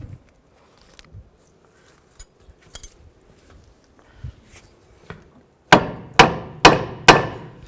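Four sharp metallic hammer taps in quick succession fitting a front wheel hub onto a 2000-2007 Ford Focus, preceded by scattered faint clinks and shuffling of tools.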